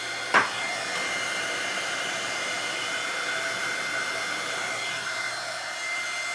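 A heat tool blows steadily on a coffee-stained primitive Halloween craft project with a constant whooshing hiss. A brief knock sounds near the start, then the fan noise runs on evenly and close.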